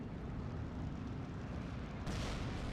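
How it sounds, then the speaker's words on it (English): A single grenade explosion in the Steel Division 2 war game hits as a sudden loud burst about two seconds in, following low rumbling battle noise. "They'll toss a grenade."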